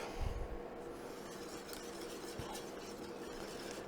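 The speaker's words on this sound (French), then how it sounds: "on mélange de temps en temps les pâtes" Mac and cheese pasta stirred in a pan, giving a steady soft scraping and swishing with faint sizzling and a few light utensil knocks, quiet and close with no talk.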